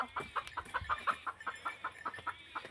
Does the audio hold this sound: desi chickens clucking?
yes